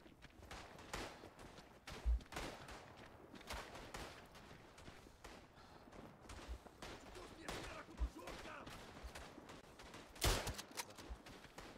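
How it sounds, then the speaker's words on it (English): Gunfire in a first-person World War I shooter set at Tannenberg, with scattered shots and bursts, one loud crack near the middle and another late, over a steady din of battle. Faint voices can be heard now and then. "You hear the gun?"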